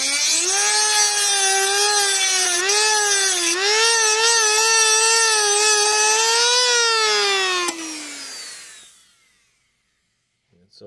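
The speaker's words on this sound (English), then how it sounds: "we'll grind that off" An angle grinder grinds off a rivet head on the chassis of a 1957 General Electric 14S208 black-and-white vacuum tube television, a loud, sustained high-pitched whine that wavers, then spins down and fades to silence.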